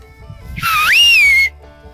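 One loud, close human whistle, about a second long and rising then leveling, used to call cows in from a paddock, alone with no talking.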